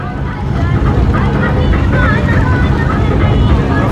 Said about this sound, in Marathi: अजून एक बोट चालले आहे तिकडं मोठ्या बोटीला बांधून चाललेली